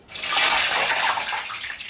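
Water poured into hot cooking oil sets off a loud, continuous sputtering hiss that surges almost at once and holds steady for about two seconds, close by with no talking.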